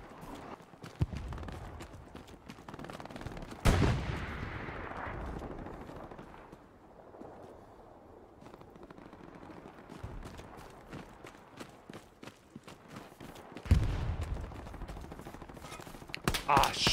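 Gunfire in Hell Let Loose on the Omaha Beach map, a WWII shooter: scattered shots with two sharper, louder bursts a few seconds into the scene and again near its end, while squad members talk over the fighting.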